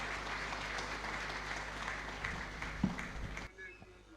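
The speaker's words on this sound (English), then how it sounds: "A round of applause for them." Quiet, steady applause from the audience at a business school graduation ceremony, an even patter of clapping heard from a distance in a reverberant hall that drops away abruptly near the end.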